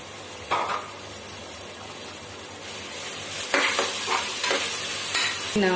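Onions and ginger-garlic paste fry for fish biryani, a steady close sizzle under repeated scraping stirs, with several louder spoon strokes toward the end and no voices.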